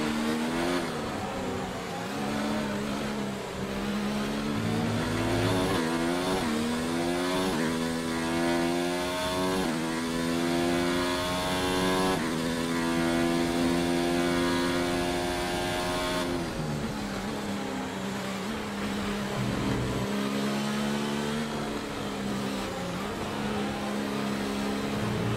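A Formula 1 car's engine screams through gear changes at the British Grand Prix in the F1 2019 game, steady high-pitched revving rising and dropping repeatedly, loud and constant throughout.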